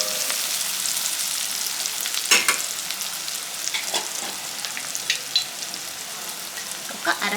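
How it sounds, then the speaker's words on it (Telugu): Sliced onions fry in a pan with a steady soft sizzle, and sharp utensil clicks and scrapes against the pan break in every so often. "ఒకసారి కలుపుకొని ఉల్లిపాయని ఒక 2-3 నిమిషాల పాటు మంచిగా మగ్గనివ్వాలి."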